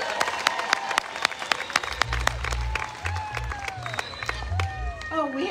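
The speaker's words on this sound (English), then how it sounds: "if we have a big cheer for the band, they might play another song" A crowd at an outdoor summer evening concert in the park applauds and cheers for the band, with steady clapping, scattered whoops and whistles throughout, and a low rumble of crowd noise underneath.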